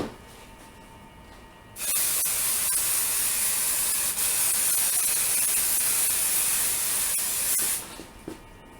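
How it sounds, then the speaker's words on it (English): Basting spray is applied to a quilt top in one long continuous burst from an aerosol can, a steady loud hiss lasting about six seconds that starts and stops abruptly, with no talking. "some people spray the quilt top, some people spray the batting"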